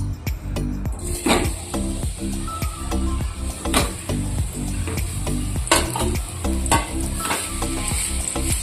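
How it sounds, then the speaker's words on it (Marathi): Dates roasting in ghee for winter date laddoos: a continuous close sizzle broken by repeated sharp scraping and clinking strokes of a spoon against the pan in an uneven rhythm, with no talking. "आता तुपामध्ये खजूर परतून घेऊ।"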